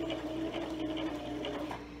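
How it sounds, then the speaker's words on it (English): A sewing machine runs steadily, stitching a burp cloth with a 3/8 seam allowance, its needle hammering in a fast, even whir, close and alone with no talking. "I'm going to back stitch and continue to sew."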